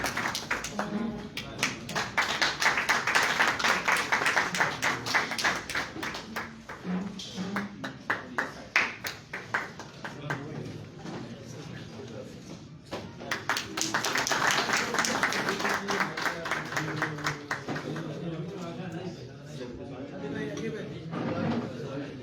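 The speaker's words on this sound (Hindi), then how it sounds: "तालियां" Audience applause at a teachers' honor lunch held by old students in Hassan Abdal, with bursts of dense clapping from a crowd that rise and fade twice, mixed with talk and a reverberant hall.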